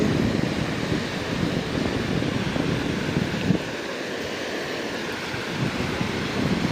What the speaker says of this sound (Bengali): এই দেখো ভাই সমুদ্র